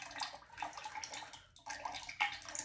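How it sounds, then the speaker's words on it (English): Ceramic glaze pours onto the top of a water dispenser's handles, making a continuous splashing, trickling wash of liquid that pauses briefly midway and then resumes, close and fairly loud. "just pouring the glaze on the top part of the handles."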